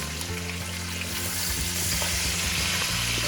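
Beef going back into a hot frying pan, a loud steady sizzle and hiss with stirring scrapes, close and continuous with no talk.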